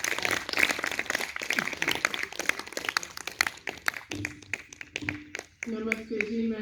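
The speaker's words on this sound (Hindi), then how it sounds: "पूजा जी, एक बार जोरदार तालियों से स्वागत करेंगे।" Audience clapping to welcome a speaker, dense applause that thins into scattered individual claps before a voice begins speaking near the end.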